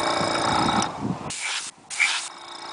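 Airbrush spray hisses in a long burst, pauses briefly, then sprays again in a shorter burst, close and steady with no talking, painting a custom My Little Pony figure.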